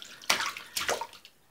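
A cat thrashes and splashes in bathtub water, two bursts of sloshing and splashing about half a second apart, close and fairly loud, fading to small drips.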